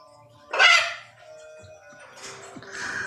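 A pet parrot gives a sharp squawk followed by quieter, rougher calls, close by with no speech.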